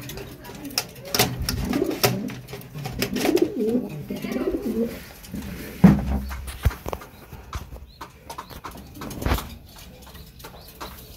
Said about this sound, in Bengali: দেখতেই পাচ্ছেন কবুতর খাবার খাচ্ছে